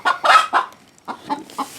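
A farm chicken clucks close by in short bursts, several throaty clucks in two quick groups separated by a brief pause, loud and clear with no talking.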